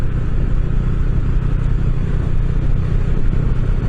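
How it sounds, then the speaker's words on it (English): A Honda CB500X motorcycle cruising on the road, a loud steady engine drone with low rumble and wind noise close to the rider, no change in pace. "Cruising on what Geico calls a sport bike."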